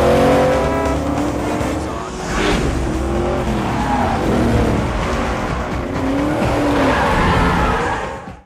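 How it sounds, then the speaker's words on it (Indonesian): A Shelby GT500 speeds through a movie car chase as police pursue, its engine roaring loudly and steadily with tire squeal and skidding layered over the sustained motor noise. "Randall yang mengendarai mobil impiannya Shelby GT 500 melaju bagaikan roket"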